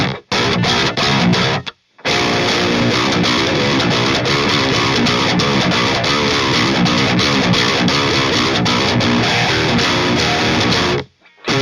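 Heavily distorted electric guitar played through a Ceriatone Leviathan amp, dense and loud with continuous chugging riffs, two short silent breaks near the start and end, no talking.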